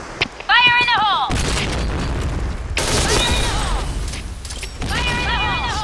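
A grenade goes off in the shooting video game Point Blank: heavy booms and crackling blasts follow one another, overlapped by voiced in-game callouts.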